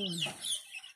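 A native chicken clucks close by in a short burst of throaty calls, then trails off into quiet.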